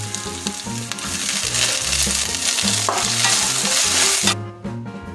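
Coconut pieces, dried chilli, crushed garlic, chopped green chilli and curry leaves fry in hot oil for a Kerala chicken dish, a loud continuous sizzle with rhythmic stirring scrapes that cuts off abruptly near the end.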